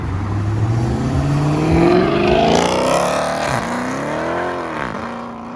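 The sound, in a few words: Dodge Hellcat widebody car accelerating away at car meet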